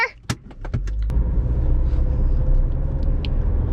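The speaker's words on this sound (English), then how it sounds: "there is actually a car coming" An Audi A1 engine rumbles close by at night, building into a steady roar after a few sharp clicks and knocks at the start, as another car approaches.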